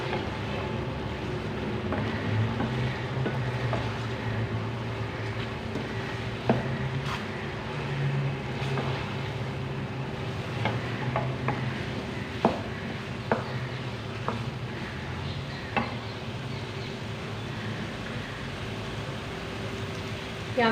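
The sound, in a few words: masala for potato and egg curry stirred and fried in pan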